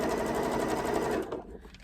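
Sewing machine stitching fabric for a crazy patchwork postcard, a rapid steady mechanical whirr that runs continuously up close, then slows and fades near the end.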